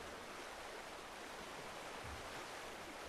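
Wading through water in Red Dead Redemption 2, a steady broadband rush and splash of moving water that holds even and fairly loud across the whole stretch with no talking.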